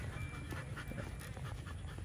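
A Belgian Malinois pants rapidly and steadily during a training session, its quick rhythmic breaths close but quiet, with no talking.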